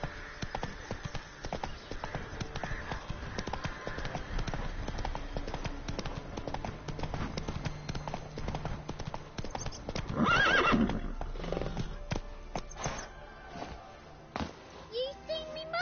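Roach, the horse in a video game, gallops with a steady clip-clop of hooves and gives a loud whinny about two-thirds of the way through, amid game ambience and faint background voices.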